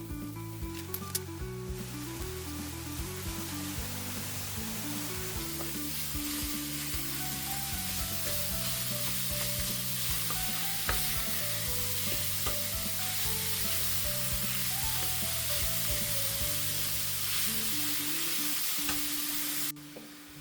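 A pound of lean ground beef sizzles loudly and continuously in a pan for a zucchini lasagna, with constant stirring and crackling that runs nearly unbroken before cutting off at the end.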